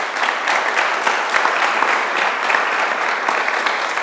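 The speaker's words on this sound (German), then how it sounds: "Auch für die beiden bitte einen Applaus." An audience at a university panel discussion applauds two professors, dense and even clapping holding steady throughout without a break.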